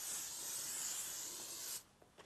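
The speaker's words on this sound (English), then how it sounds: "We'll start with spraying the mold with a lubricant." Cooking spray hissing from an aerosol can onto a concrete casting mold, one steady close burst lasting under two seconds before cutting off abruptly, followed by faint handling noises.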